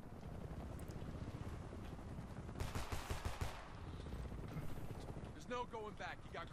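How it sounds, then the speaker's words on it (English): Gunfire in the Homefront video game, rapid bursts of shots mixed with battle noise and voices talking over the action. "Jacob, start shooting. Two of them coming over the fence"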